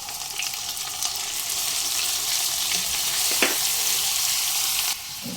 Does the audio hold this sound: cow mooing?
no